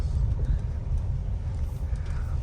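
A 2025 Toyota Ativ 1.5 HEV Premium hybrid sedan driving, heard from inside the cabin as a steady low road and engine rumble with constant tire noise and no pauses.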